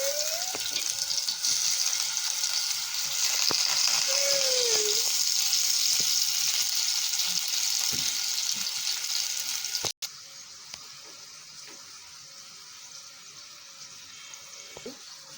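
Potatoes hit hot oil in a pan with a steady hissing sizzle. About ten seconds in, the sizzle abruptly drops to a quieter, softer fry that carries on to the end.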